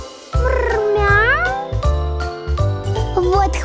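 Cartoon cat meowing in a children's animated song, drawn-out sliding meows over a musical backing with jingling sounds, loud and close.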